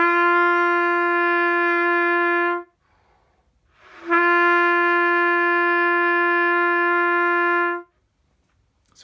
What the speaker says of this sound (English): So if I were to start with an H sound, it would sound something like this.